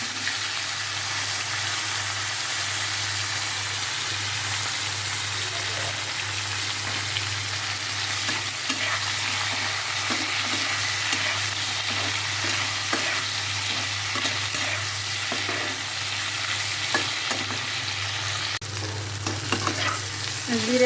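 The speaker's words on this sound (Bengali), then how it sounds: "তেলের ভিতর জিরা ফোড়ন দিয়ে উচ্ছে আর আলুটা দিয়ে দেবো।" Bitter gourd and potato frying in oil with cumin, a long steady sizzle with occasional soft stirring clicks and scrapes, no voices.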